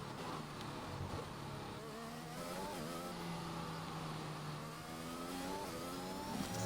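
A McLaren Formula 1 car in F1 2021 whines faintly as it accelerates, its engine pitch rising through several upshifts in a thin, distant tone.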